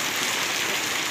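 Hail pelting down outdoors near a lodging on the way to Pathivara, a dense, steady hiss of ice pellets with no let-up and no voices.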